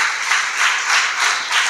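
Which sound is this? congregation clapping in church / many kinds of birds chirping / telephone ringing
congregation clapping in church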